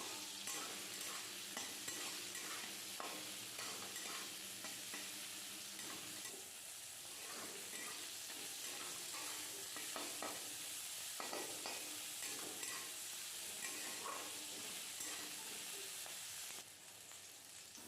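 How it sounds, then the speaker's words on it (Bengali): Bitter gourd fries in a pan with salt and turmeric, with a continuous close sizzle and repeated scraping, clattering stirring strokes throughout and no talking. "ভালো করে আবারও একটু ভেজে নিতে হবে।"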